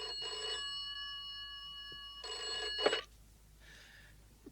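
An old-style telephone bell rings in two bright, clanging bursts with a pause between them, indoors and fairly close, followed by a fainter partial ring.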